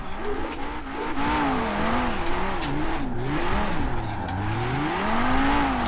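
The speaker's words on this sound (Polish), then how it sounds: "Ja tu drifty uprawiam." An Audi RS2 drifts in the racing game Forza Horizon 4, its engine revving and wavering under continuous, loud tire squeal that swoops up and down as the car slides.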